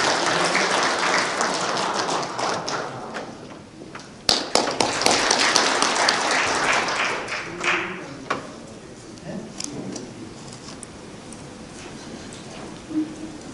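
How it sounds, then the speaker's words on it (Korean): An audience at a Korean memorial and commemorative society launch ceremony claps to welcome a former minister to the podium. Dense applause rises and surges, then gradually thins into scattered taps. "계속해서 박수로 맞이하도록 하겠습니다."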